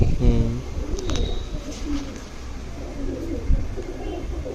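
Karnapura pigeons coo softly amid rustling background noise, with a faint voice in the mix.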